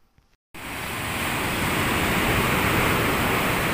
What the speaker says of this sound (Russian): Хочу показать вам и такое море. Волнистое, взволнованное.